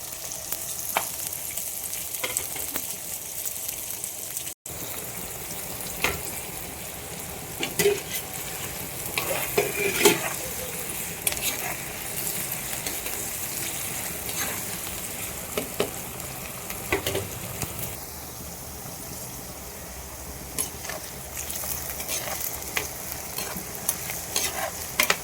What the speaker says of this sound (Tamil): அப்புறம் வெங்காயம் போட்டுக்கலாம். நல்லா வதக்கிக்கலாம் ஃப்ரெண்ட்ஸ்